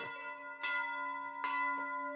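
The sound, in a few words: bell ringing, a gifted bell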